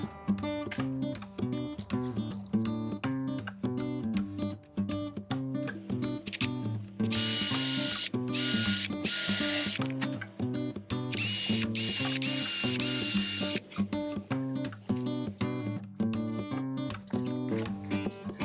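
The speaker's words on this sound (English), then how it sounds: "I'm actually using my stepper bit for the countersink." Power drill with a stepper bit countersinking screw holes during roof work, whirring in two sustained loud bursts between steady rhythmic mechanical ticking.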